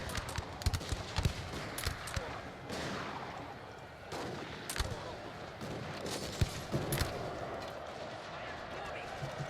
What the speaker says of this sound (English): Now our guns are really destroying.